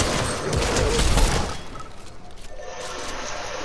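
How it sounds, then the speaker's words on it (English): Video game gunfire crackles in a dense, loud burst during the first second and a half, then thins into scattered, quieter shots and rattling over a continuous background for the rest. "We got shooting over here."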